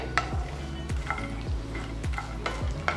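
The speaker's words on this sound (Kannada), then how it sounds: "ಎಸ್, ಕರೆಕ್ಟಾಗಿ ಇದು ಫ್ರೈ ಆಗಬೇಕು." Makhana (fox nut) seeds frying in a pan, a steady sizzle broken by repeated stirring scrapes and rattles at roughly half-second intervals, close and continuous with no talking.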